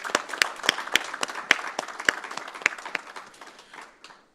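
Shareholders clap at an annual general meeting for a credit investment company, a small crowd's sharp, scattered claps that start lively and thin out, fading to a few last strikes.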